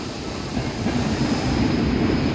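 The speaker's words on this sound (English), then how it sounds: "We've got 88004, which is a DRS train" DRS locomotive 88004 hauls an intermodal freight service from Daventry to Mossend Euroterminal past Carlisle, a steady loud rumble of wagons rolling by with faint wheel clatter and a thin high squeal throughout.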